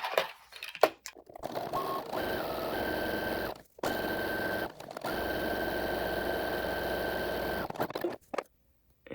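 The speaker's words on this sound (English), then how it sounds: "We're going to stitch this in place, and then our top is done" A sewing machine runs in several sustained stitching bursts, a close, steady whirring hum broken by short stops, while topstitching a colorblock garment top in place.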